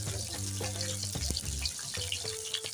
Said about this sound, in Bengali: এখন পনিরগুলো আমি সব ভাজবো।